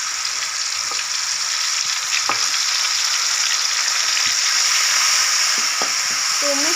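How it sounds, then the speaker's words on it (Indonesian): Spice paste stir-fried in a pan for yellow-spiced tuna, a steady loud sizzle and hiss running throughout, with a few faint scrapes and clicks of stirring. "Tumis sampai matang bun, biar gak membul bumbu."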